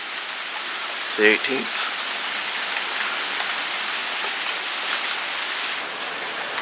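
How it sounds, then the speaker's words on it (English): Rain from Tropical Storm Imelda falls steadily near Buffalo Bayou in Houston in 2019, a constant close hiss with a brief spoken phrase early on. "The rains have begun again."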